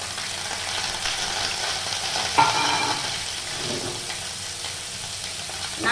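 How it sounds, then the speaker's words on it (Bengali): Shredded coconut frying in hot oil for jackfruit cutlets, giving an even sizzle with a few stirring scrapes and one brief clink partway through, close up and with no talking. "নারকেল কুচিগুলো আগে ভেজে নিচ্ছি।"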